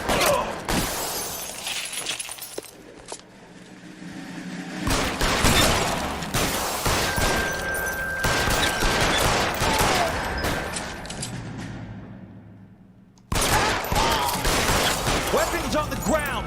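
Heavy gunfire in a shootout from the crime game L.A. Noire, dense overlapping shots and crashing impacts filling most of the stretch, with a brief lull before a loud final burst.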